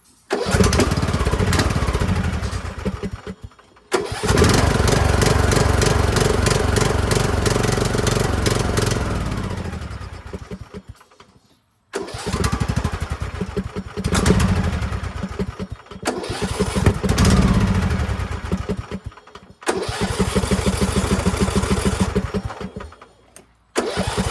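A Craftsman riding mower with a carburetor still fouled by debris, its engine loudly cranking, catching and running in rough bursts, then cutting out into brief silences before restarting several times.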